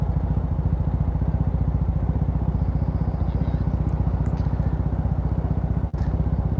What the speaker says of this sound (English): I hope none of you guys have sensitive ears because this bike is a little bit loud.